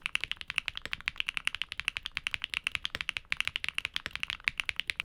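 Fast steady typing on a mechanical keyboard with Keygeek Azure switches, a dense run of crisp close-up clacks at an even rhythm, with only a couple of tiny pauses.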